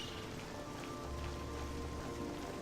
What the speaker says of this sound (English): It's a rainy day in Anvil.